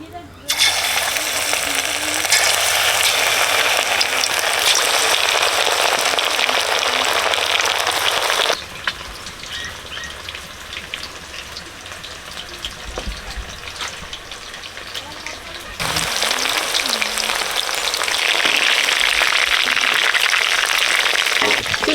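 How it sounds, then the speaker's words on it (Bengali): Loud, continuous sizzling and crackling of chicken frying in hot oil, briefly dropping to a softer bubbling before surging again, with a voice at times. "চিলি চিকেনের মাংস ভাজবো তেল গরম হয়ে গেছে"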